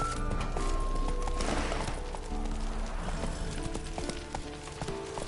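Horse hooves pound steadily at a gallop in The Witcher 3: Wild Hunt, a dense, continuous clatter running the whole stretch alongside background music and game sounds.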